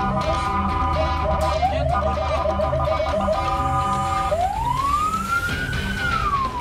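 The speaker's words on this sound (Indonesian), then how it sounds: "Padahal mobil damkar itu sedang bergegas menuju lokasi kebakaran." A fire engine's siren wails loudly and close as it rushes toward a fire in West Java, first a fast repeating yelp then a long rising and falling wail, over traffic rumble.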